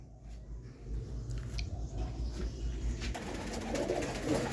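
Blue-chested pigeons coo in low, repeated throaty calls close by, over a faint steady background, with no talking.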